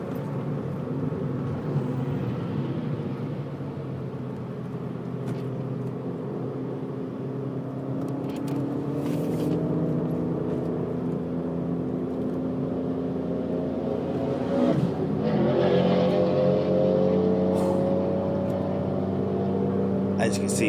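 Loud Subaru Impreza driving through hilly, wooded country, its engine note droning and rising as it passes, echoing off the surrounding hills and trees, with someone talking over it.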